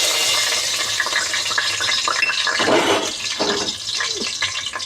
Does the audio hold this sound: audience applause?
no